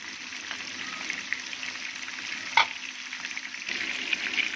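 Pieces of fish frying in hot oil in a pan, a steady bright crackling sizzle with one sharper spatter midway, close and alone with no talk.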